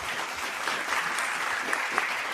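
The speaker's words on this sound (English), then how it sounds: "Luboš, big round of applause." A crowd applauds a contestant at the FameLab International Final 2024 science-communication competition, giving steady, moderately loud clapping with a few sharper claps standing out and no voices.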